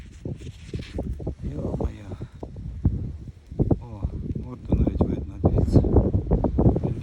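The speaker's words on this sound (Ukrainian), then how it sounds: "Вітер сьогодні страшний, вибачайте за вітер, якщо будете чути." Strong wind buffets the microphone outdoors during a metal-detecting search, in low rumbling gusts beneath a person talking throughout, close and fairly loud.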